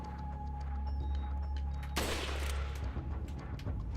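A rifle shot in Resident Evil 4 cracks once, loud and sharp, midway through. It cuts across a steady game hum and is followed by a short decaying rumble.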